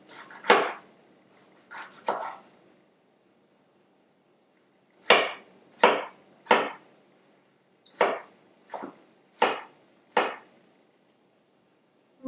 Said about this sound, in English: And this I'm just going to dice.